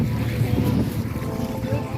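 A boat out on a big lake, with a steady low rumble of motion and water mixed with wind buffeting the microphone throughout.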